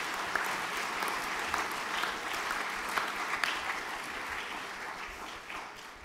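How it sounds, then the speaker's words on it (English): Steady applause from an audience at a junior graduation ceremony honouring top students, dense and sustained for several seconds with no speech over it. "If we could applaud, thank you"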